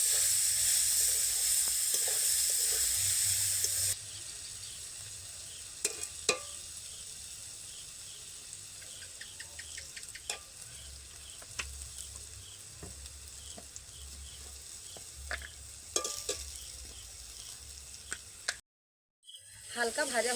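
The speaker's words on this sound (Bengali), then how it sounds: "সবগুলোকে একসঙ্গে দু তিন মিনিটের জন্য নাড়ব হালকা ভাজা হয়ে" Grated potato and chopped tomato frying together in a pan as part of a rice-and-potato snack, a soft steady sizzle under scattered scraping stir clicks, loud sizzling at the start then quieter, with brief talk at the end.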